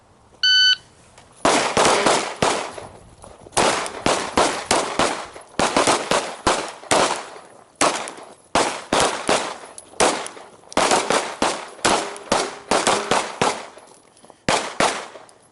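Pistol fire on an indoor shooting range: loud, close bursts of rapid shots in several clusters separated by short pauses, with a brief electronic beep at the very start.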